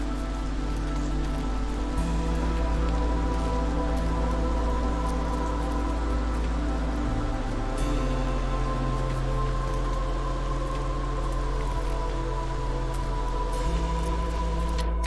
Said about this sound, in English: I assume that we're in the middle of the storm right now, which is why it's so dark and rainy